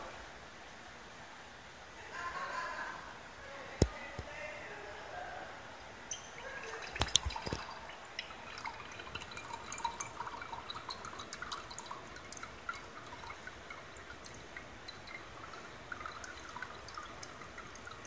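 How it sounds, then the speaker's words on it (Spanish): Water drains from a separatory funnel after a liquid-liquid extraction, trickling and dripping softly and steadily into a vessel below in a quiet lab, with a few louder drips and clinks. "Ahora procedemos a retirar el agua"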